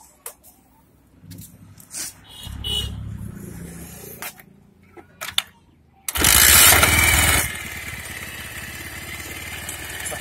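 A Bajaj Pulsar 150 motorcycle being worked on, with clanks and knocks of handling before the engine starts and runs at a loud, steady rev for about a second and a half, then drops back to a lower idle.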